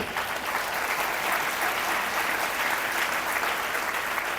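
Loud, sustained clapping from a church congregation during a Hindi sermon on festival laws, a dense steady wash of many hands filling the space without pause.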